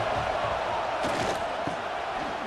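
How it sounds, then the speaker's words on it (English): Stadium crowd roar at an Alabama home game in the College Football 26 video game, a steady dense wash of noise swelling on third down, loud and continuous with no clear speech on top. "The Tide crowd rolling noise down on the Saban field on 3rd down."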